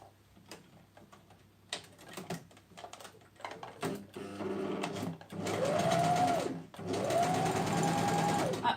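Sewing machine stitching fabric onto elastic, with clicks and handling first, then two sustained runs of rapid mechanical stitching, close and loud.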